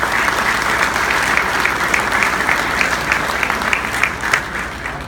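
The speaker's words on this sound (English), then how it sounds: "Please give them a big round of applause." A crowd applauds steadily, a dense wash of clapping that holds at an even level from start to finish.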